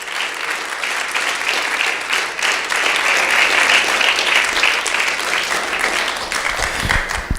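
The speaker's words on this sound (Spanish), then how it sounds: "Ponle un aplauso al Señor Jesucristo" Loud, sustained applause from a church audience fills the whole stretch, dense steady clapping with no speech over it and only small swells in level.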